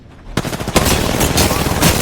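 Rapid bursts of automatic gunfire in a first-person shooter match during the Inner Beast event, loud and close, firing after a short quiet lead-in, with brief character voice lines mixed in.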